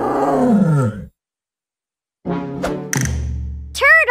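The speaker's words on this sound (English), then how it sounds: "Tiger!" A tiger roars twice in a preschool animal-learning cartoon, a loud growling roar, a silent pause, then a second rising roar.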